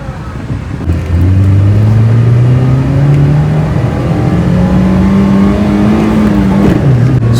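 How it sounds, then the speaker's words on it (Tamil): A restored 16-year-old Ford Ikon revs hard in second gear, its loud engine drone climbing steadily in pitch for several seconds before dropping briefly near the end, close and dominant, with no talking. "பட் செகண்ட் கியரில் பாருங்கள் வண்டி எப்படி ரேவ் ஆகிட்டு இருக்குன்னு"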